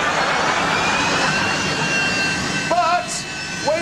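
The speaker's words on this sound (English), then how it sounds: "there's the jet engine in your bathroom. It's actually the fan which comes on when you turn on the light." Bathroom extractor fan, switched on with the light, roars loudly and steadily like a jet engine, a continuous broadband whoosh with a faint whine throughout, with brief voices near the end.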